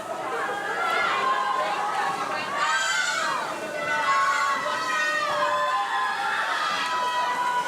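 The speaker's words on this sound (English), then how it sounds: "Crowd's getting loud." A crowd at an indoor swimming meet keeps up a loud, continuous hubbub of overlapping voices, shouts and cheers, echoing around the pool.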